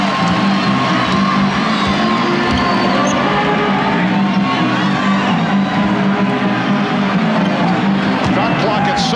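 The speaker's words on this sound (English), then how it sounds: "And now the crowd trying to get into it." A basketball arena crowd at Game 4 of the 1995 NBA Finals between the Orlando Magic and Houston Rockets roars in a constant, dense wash beneath a commentator's voice.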